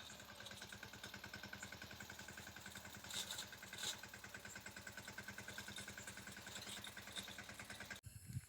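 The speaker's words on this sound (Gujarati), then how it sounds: "આ ચેતન ટ્રેક્ટર લઈને હાલો જાય છે." A farm tractor heading out to the field runs with an even, rapid chugging engine throttle, faint and steady throughout, ending with a sharp knock.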